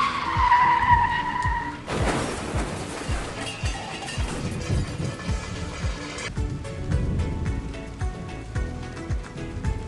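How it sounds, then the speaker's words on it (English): Self-driving car crash in an anime mobile video game, with loud screeching skids and tire squeal followed by a dense clattering burst of impact and debris noise, continuous and close, game effects with no speech. "Anyway, a self-driving car crashes into them."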